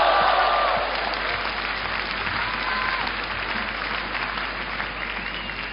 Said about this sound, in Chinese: 谢谢大家伙的掌声鼓励